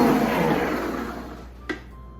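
Electric mixer at medium speed beating cookie dough, a steady loud whirring drone that gradually fades toward the end, with a brief clink near the close.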